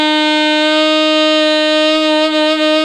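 A single sung note is held straight and clear, then begins to waver in a gentle vibrato near the end.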